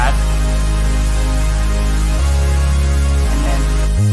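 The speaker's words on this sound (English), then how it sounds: "and then there's this big pad," A big synth pad from a pop chorus holds thick, sustained chords over a heavy low end, loud and steady, with the chord shifting twice before it cuts off near the end, and no voice over it.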